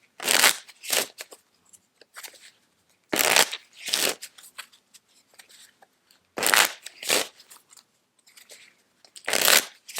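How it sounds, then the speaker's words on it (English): A deck of playing cards is riffle-shuffled in several crisp, rapid bursts separated by short pauses, close and clear with soft handling noises between shuffles and no talking. "we'll just put the king back in and shuffle."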